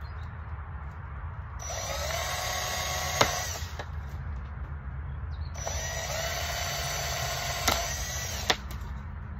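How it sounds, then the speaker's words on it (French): Small holes being made in a plastic garden container with a tool that gives two separate high, steady whining bursts of about two seconds each, close and alone over a low background hum. "Je fais des petits trous."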